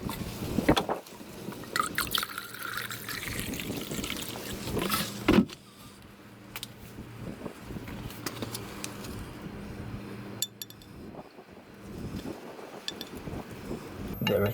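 Petrol is poured from a container into a fuel separator cylinder, giving a close, continuous gurgling liquid flow with sloshing and knocks, plus a sharp clunk partway through.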